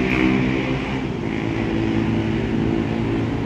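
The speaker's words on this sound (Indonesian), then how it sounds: "itu bunyi dari salah satu knalpot kendaraan yang ada" Loud, continuous low rumble of vehicle exhaust from traffic near a busy market, heard from some distance as a steady droning roar with no speech.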